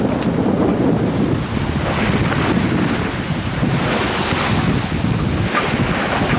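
Open-ocean waves and strong wind aboard a B-40 sailboat during the Marion Bermuda Race, a loud, continuous rush of surf and buffeting wind across the microphone with no break.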